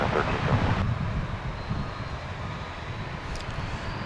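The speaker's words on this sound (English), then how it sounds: "So here goes American Flight 2759 off to San Antonio, Texas. It is an Airbus A321." An American Airlines Airbus A321 departing DFW airport, a distant broadband jet roar rumbling steadily and faintly at the far edge of the runway, with light wind noise mixed in.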